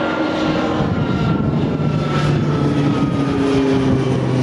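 An aircraft on the flight path near Jersey airport on the coast passes overhead, a loud steady engine roar with no voices.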